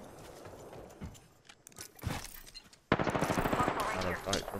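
Gunfire crackles in a battle-royale style shooter while the player takes fire, rapid bursts of shots heard faintly at first and then louder and denser, with a voice speaking over part of it.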